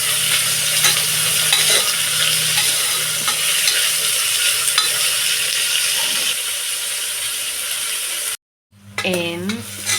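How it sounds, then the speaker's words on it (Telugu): Onions frying in a pan for chicken curry, stirred continuously: a steady, loud sizzle with scraping strokes of a spoon close by, then a brief cut and a different, quieter sizzle with a whining tone at the end. "ఆనియన్స్ వేసాక తిప్పుతూ ఉండండి."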